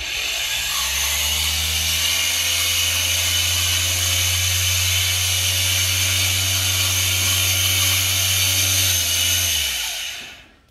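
Ribi 300W 100-volt electric square sander running alone: a steady, loud mechanical whir and buzz held for about ten seconds, then winding down as it switches off.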